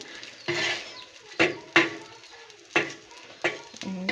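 Potato chapli kababs are turned over in a cooking pan, giving several sharp metallic clacks and scrapes of the spatula at uneven intervals over a faint background sizzle, close and with no talking.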